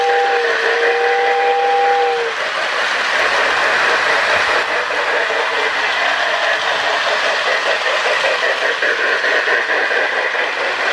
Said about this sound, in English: Another whistle from the Girard station.